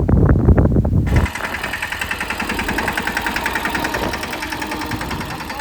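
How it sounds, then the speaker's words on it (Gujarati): A farm tractor engine runs near a brinjal field: a loud rumbling rev for the first second, then a steady knocking diesel idle with an even pulsing rhythm, with no talking. "આપણે જો હવે ટ્રેક્ટર હાંકવા માંડ્યા છે."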